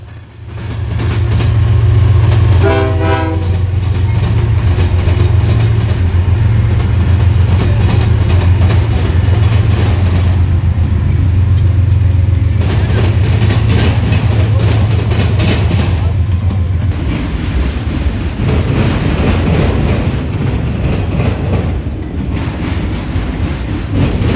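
Freight train M216 rumbles loud and close at a rail crossing on the main line near the Marion yard in central Ohio, a steady low horn-like drone over clattering wheels that fades after about 17 seconds into rougher rolling noise.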